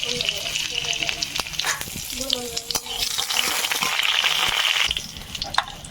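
Panch phoron spices sizzle in hot oil in a kadai in a village kitchen, with a constant bright crackle broken by scraping stirs and clinks. A voice talks faintly underneath.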